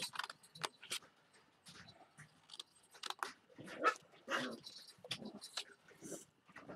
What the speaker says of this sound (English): we're listening to a dog have a fit playing with ball about his her ball